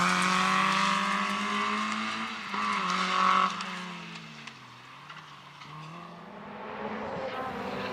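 A rally car slides wide on gravel at the 2005 Millbrook National Stages Rally, its engine loud and close with a rising then falling note as the tyres scrabble across the loose surface, fading slightly as it moves off.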